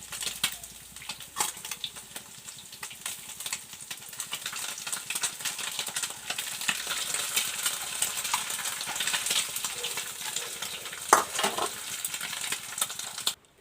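Fish fries in hot oil in a pan, giving a steady, close broadband sizzle that swells after a few seconds, with an occasional clink or tap; no voices are heard.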